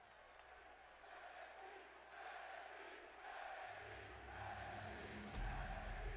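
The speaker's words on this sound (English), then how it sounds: "The crowd is rowdy here." A rowdy arena crowd in the WWE 2K22 wrestling game roars and cheers as a steady, loud wash that swells further toward the end, with faint commentary voices underneath.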